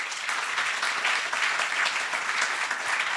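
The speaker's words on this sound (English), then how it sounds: "let's just give a very warm round of applause" An audience at a conversation event with Homi Bhabha and William Kentridge breaks into a warm round of applause, a dense, even wash of clapping at moderate volume with no one speaking.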